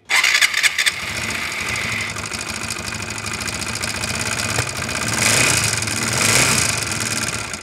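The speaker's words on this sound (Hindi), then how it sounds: "ये जो इंजन है उसकी खोलने से पहले की जो साउंड है वो सुन लीजिए" A TVS Apache RTR 180/160 motorcycle engine, due for rebuild, starts and then runs steadily, a loud close chugging drone with a few revs swelling near the end.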